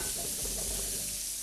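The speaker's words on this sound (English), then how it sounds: "I'm going to saute these together like this." Half a cup of onions and about three-quarters of a cup of mushrooms sauté together in a pan, giving a steady close sizzle with soft stirring scrapes and no voices.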